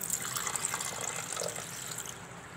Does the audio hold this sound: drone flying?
no